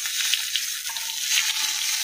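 Fish shallow-frying in oil, a bright steady sizzle and crackle with small spits and pops, close and continuous, no voices.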